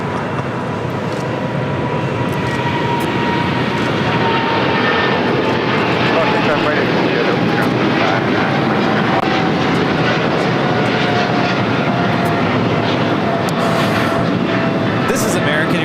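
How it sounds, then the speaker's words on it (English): An American Airlines Boeing 777-300ER takes off from LAX bound for Miami, a loud, steady broadband engine roar holding throughout with faint tonal whine and voices talking over it. "This is American Airlines 349 taking off to Miami, Florida on a 777 300ER"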